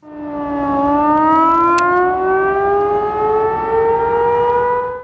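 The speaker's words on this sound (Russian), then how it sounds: "Прерывистый гудок электросирен на площади Куйбышева звучит 3 минуты" An electric civil defense siren wails on Kuibyshev Square in Samara, a loud, close, sustained tone that dips and then slowly rises, sounding alone with no voices.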